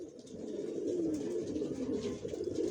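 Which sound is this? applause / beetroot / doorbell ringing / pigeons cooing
pigeons cooing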